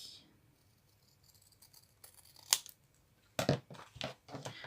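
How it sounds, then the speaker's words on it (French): Scissors cutting paper for a handmade Christmas album, a few close, crisp snips and rustling cuts in short bursts, with quieter paper handling between them. "je n'ai plus qu'à couper"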